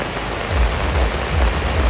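Heavy rain pours down on a Bali street festival stage, a dense, loud, constant roar without breaks and with no voices.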